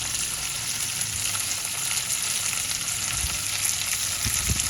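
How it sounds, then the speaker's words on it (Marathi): Cauliflower, carrots, peas and cashews roasting in a pan for navratan pulao, a steady sizzle of frying throughout with occasional stirring scrapes, close and moderately loud, no talking. "तर आपण ह्या भाज्या रोस्ट करून घेऊया."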